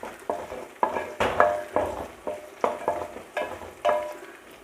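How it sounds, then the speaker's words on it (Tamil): Green chillies sizzle and fry in a pan while being stirred in repeated scraping strokes, roughly one every half second, for a South Indian fish curry; steady close crackle with no talk. "இந்த பச்சை மிளகாய் சேர்த்து நல்லா வதக்கிக்கிடலாம்."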